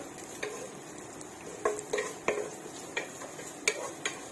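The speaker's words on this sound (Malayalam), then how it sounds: "മൊരിയാനായിട്ട് ഇങ്ങനെ ഇളക്കി കൊടുക്കണം" Chopped onions frying in a pan while being stirred, with scattered spoon scrapes and knocks against the pan over a soft sizzle, close and fairly quiet, no talking.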